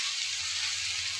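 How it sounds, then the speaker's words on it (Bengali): Fried potatoes drop into a pan of cooked spice masala, a steady bright hiss of close sizzling with a soft low stirring rumble underneath and no voices. "আমার মশলা কষা হয়ে গেছে, এরপর ভেজে রাখা আলুগুলো তুলে দেব।"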